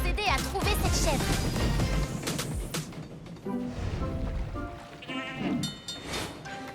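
A goat bleats in a children's cartoon, several wavering bleats mixed with clattering bumps and busy background sound, loud and near.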